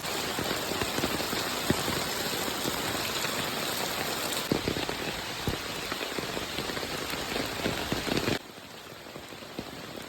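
First monsoon rain pours steadily onto surfaces outdoors, a dense, continuous patter of drops that stays loud and even, then drops slightly softer near the end, with no voices.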